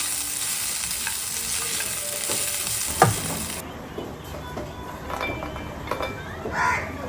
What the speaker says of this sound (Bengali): চিড়েটা আগে ধুয়ে নুন আর মিষ্টি মাখিয়ে রেখে দিয়েছিলাম চলো এটাকে মিশিয়ে রেডি করে নিই